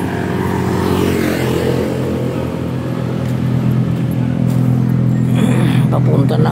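Road traffic on Marcos Highway, a steady roar of passing cars and motorcycles with engines revving, loud and continuous through the whole stretch, with a voice talking over it.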